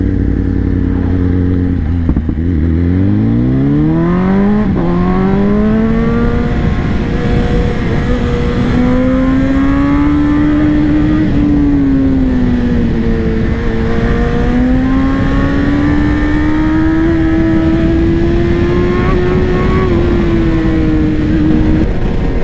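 A 2024 BMW M 1000 XR Competition motorcycle engine revs up and holds high, its pitch climbing and wavering as it accelerates, loud and close against heavy wind noise.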